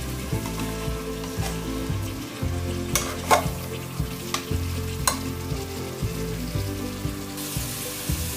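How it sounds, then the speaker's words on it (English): Vegetables fry in a pan with a steady, close sizzle, punctuated by several sharp stirring scrapes and clicks over a background of soft music. "I'll keep this stirring in between till the vegetables get cooked"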